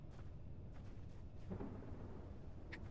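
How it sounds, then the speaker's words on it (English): A thunderstorm in the Space Engineers video game rolls as a faint, distant rumble of thunder under a low steady backdrop, with no talking. "I hear another storm."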